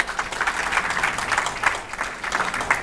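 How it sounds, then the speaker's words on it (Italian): Steady audience applause fills a stage hypnosis show in Suzzara, Italy: dense, continuous clapping from a crowd, close and fairly loud, with no clear breaks. "Francesco, un applauso,"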